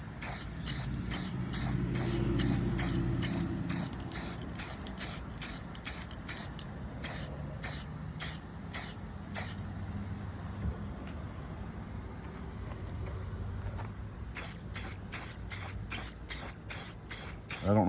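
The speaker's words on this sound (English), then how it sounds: "Let's see if I can spray it and do it at the same time." Rapid bursts of aerosol spray paint onto Ford Mustang Fox-body taillight covers in a steady rhythm, a long run of short hisses, a pause with duller hissing, then another quick series, close up.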